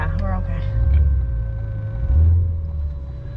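A 2022 Cadillac CT5-V Blackwing heard from inside the cabin, its deep engine roar swelling twice with a thin supercharger whine above it, while a person talks over it.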